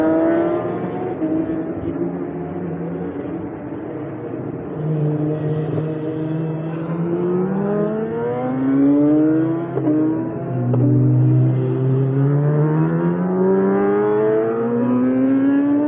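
Racing motorcycles pull out of the pit lane at Spa-Francorchamps during the 2021 six-hour endurance race, their engines droning and rising in pitch through the gears, several bikes overlapping in a continuous loud roar.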